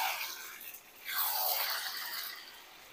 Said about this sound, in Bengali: আবারও নেড়ে নেব।